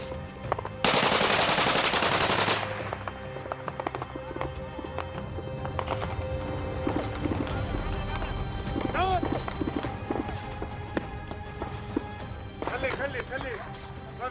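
Gunfire exchange in Homs, a dense mix of bursts and single cracks under shouted talk and hurried movement, with a loud, sustained roar near the start and scattered shots continuing throughout.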